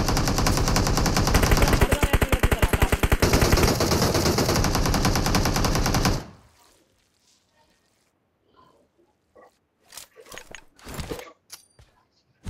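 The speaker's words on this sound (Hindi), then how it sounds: "सुल्तान इसी स्मोक पे फायर दे दो तेरे पास में" Rapid automatic gunfire in a tactical shooter match roars loud and continuous for about six seconds, then cuts off, followed by scattered sharper shots and bursts at a distance.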